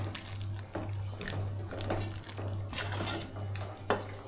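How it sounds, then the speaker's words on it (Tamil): A spoon scrapes and clinks against a cooking pot in repeated stirring strokes as water is mixed into meal maker (soy chunk) gravy, over a low steady hum. "இப்போ கொஞ்சமாக தண்ணி சேர்த்துக்கலாம் நல்லா கலந்து விட்டுடலாம்"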